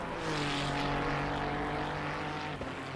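Race cars on track at Mount Panorama in Assetto Corsa Competizione, a steady loud engine drone with sustained tonal whine and a constant rush of road noise, no talk.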